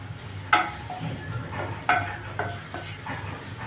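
Tomatoes cooking in an onion gravy in a pan give a soft steady sizzle, with a few sharp scraping clicks of a spoon stirring against the pan at intervals, close by and with no talking.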